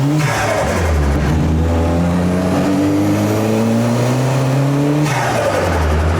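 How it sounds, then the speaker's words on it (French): A Peugeot 306 Turbo engine on ethanol revs hard and close, pitch climbing and dropping through gear changes, with a steady rushing turbocharger whoosh layered over the roar. "On l'entend le turbo plus qu'avant là."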